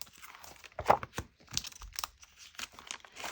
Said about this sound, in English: I put just a little bit of tape on the back of it